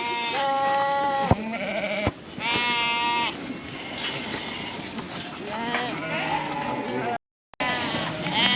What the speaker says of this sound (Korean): 지금 양들만 따로 잡아가지고 저 건물 안으로 지금 넣고 있고요.